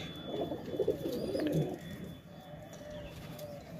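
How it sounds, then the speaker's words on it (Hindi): Soft, low cooing from Rampuri pigeons repeats in short bursts early on, then fades to quiet background murmur. "एक जोड़ा है रामपुरी गहरे कबूतर हैं"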